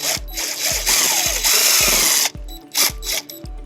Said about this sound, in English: we're going to go ahead and drill our second hole.